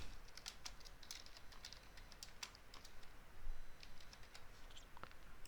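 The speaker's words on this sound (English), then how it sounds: "So this is just I'm typing." Quiet, rapid typing on a computer keyboard, irregular clusters of light clicks with brief pauses, fairly faint and close.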